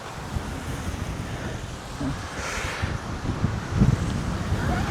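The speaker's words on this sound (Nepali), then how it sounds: "एकदमै हावा चले यहाँ त है" Strong wind blows by the water, a loud continuous rushing roar with buffeting gusts hitting the microphone and a faint wash of water underneath.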